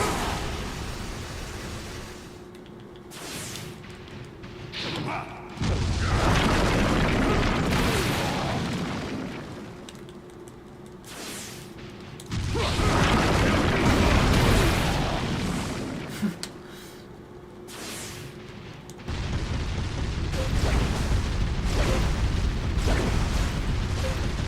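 Autocannon firing in an anime-style video game, heavy loud booming blasts that roll together in long sustained stretches, separated by quieter gaps of rumble.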